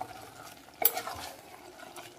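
A spoon stirs ridge gourd and chopped tomato with turmeric in a pan of oil, giving a faint soft scrape and a light sizzle, with one sharper clink of utensil against the pan, quiet and close, with no voices.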